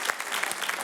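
A comedy show audience bursts into brief applause, a dense crackle of many hands clapping together at close range.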